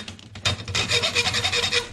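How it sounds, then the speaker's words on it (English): A saw cuts through an RC crawler frame for a Traxxas TRX-4 build, giving a steady rasping back-and-forth rhythm of close, fairly loud strokes with no talk. "Who else is sawing frames in half right now?"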